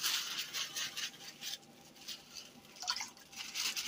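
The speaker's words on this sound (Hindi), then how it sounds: "कूलर से डाल रहे हैं हम लोग।" Sweet water from a cooler trickles and patters softly into a plastic milk bag in short, faint bursts.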